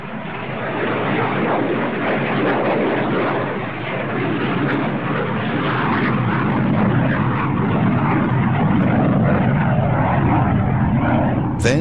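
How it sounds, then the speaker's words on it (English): An Antonov An-22 military transport, a huge turboprop, roaring with a dense steady propeller and engine drone that stays loud throughout, with speech faintly underneath. "the AN-22 remains the largest turboprop in the world"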